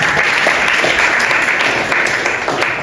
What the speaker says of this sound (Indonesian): boleh tepuk dulu semuanya